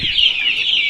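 Medium-sized broiler chickens on a farm give a quick, close burst of clucking.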